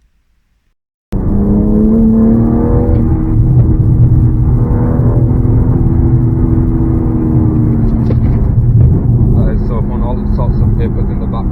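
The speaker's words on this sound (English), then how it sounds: "We are in an M3 for the very first time" A BMW M3 Competition drives along, its engine giving a loud, steady rumble and whir with gear-change swells throughout, starting abruptly after a moment of silence.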